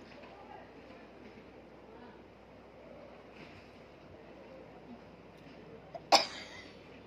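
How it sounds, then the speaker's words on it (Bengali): A single sharp sneeze bursts out near the end after several seconds of low, steady background hiss. "মার একটা হেঁচি হয়ে গেছে।"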